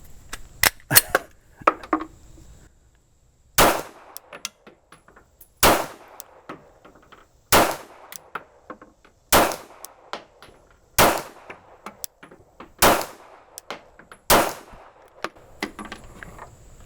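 Gunshots ring out during a 40-yard pistol shooting drill in which the ammunition malfunctioned: a quick cluster of shots opens, then after a pause about eight loud, sharp reports follow at a steady, roughly two-second rhythm.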